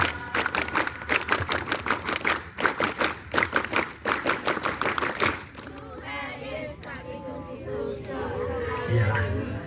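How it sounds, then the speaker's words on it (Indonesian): Students at a school perform the rhythmic Pramuka scout clap twice, rapid patterned group clapping for about five seconds, followed by chatter and voices in the room. "Tepuk pramuka 2 kali."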